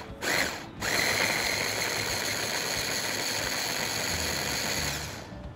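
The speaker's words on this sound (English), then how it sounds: "add to the chopper garlic, white onion and tomato, all the grilled stuff and tomato paste, and chop them till you get nice pulpy consistency" A motorized food chopper whirs steadily, pulping grilled garlic, white onion, tomato and tomato paste into a sauce, a loud continuous buzz starting after a brief burst and running about five seconds before stopping.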